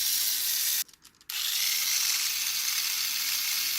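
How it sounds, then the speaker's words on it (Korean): Mini 4WD MA chassis drivetrain running freshly oiled, giving a steady, even whirring hiss close up, briefly cut off in a short gap near the start before resuming at the same level. "다시 한번 구동부 소리 들어볼게요"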